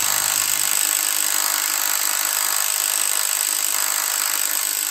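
A power drill tightening a Lamello Invis clamping element runs continuously with a harsh, rattling hammer-action buzz, loud and close, without pause.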